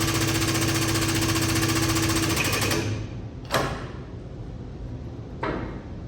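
Cheap air pumps on a vehicle lift run with a rapid, loud mechanical chatter for about three seconds, then cut off, leaving a quieter hum broken by two short hissing bursts of air.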